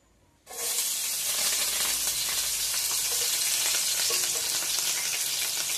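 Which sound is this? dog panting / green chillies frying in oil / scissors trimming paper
green chillies frying in oil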